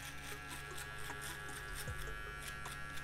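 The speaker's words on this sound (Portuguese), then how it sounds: "com a própria máquina de acabamento, a gente já vem tirando a marcação" An electric finishing trimmer buzzes steadily and close up while cutting a fade, its motor hum constant throughout with slight shifts as it moves against the hair; no one talks.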